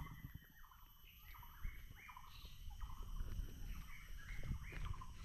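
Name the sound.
birds chirping in a hill forest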